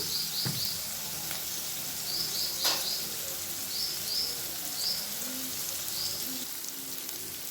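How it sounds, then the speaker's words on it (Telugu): Bottle gourd curry ingredients fry in oil with a soft, continuous sizzle, close and steady, while small birds chirp in short clusters in the background. "ఇవైతే ఆయిల్లో బాగా మగ్గిపోవాలండి"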